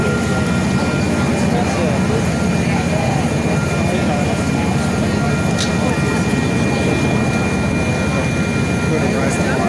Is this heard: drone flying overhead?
yes